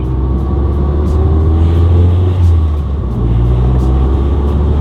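A MazdaSpeed 3, driven just after a new motor mount was installed, drones with a steady, loud low engine and road rumble heard from inside the cabin, swelling slightly as it moves.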